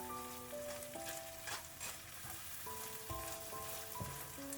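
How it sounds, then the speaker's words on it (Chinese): Beaten eggs sizzle steadily in a hot pan while chopsticks quickly break them into small curds for a zucchini dumpling filling, a close frying hiss under soft background music. "等底部凝固之后，用筷子快速的划散，炒成小块"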